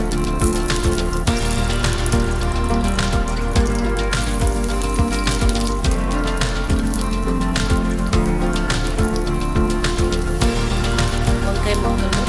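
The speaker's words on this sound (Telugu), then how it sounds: "మిరపకాయలు ఫ్రై చేసుకున్న ఇదే ఆయిల్లో వంకాయ ముక్కలు వేసుకోవాలి" Brinjal pieces fry in the same oil already used for frying chillies, giving a dense, steady sizzle with crackling pops that runs loud and close throughout.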